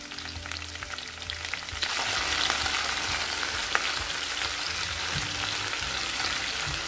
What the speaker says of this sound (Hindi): कटी हुई टेंडली सब हम डाल देते हैं। और इसको हम अच्छी तरह से मिला लेते हैं।